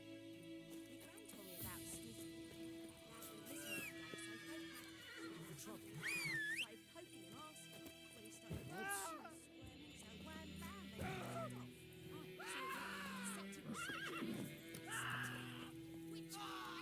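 Roach, the horse in Witcher 3, whinnies several times in loud, warbling neighs over a busy game soundscape with music, plus a few other voices and cries.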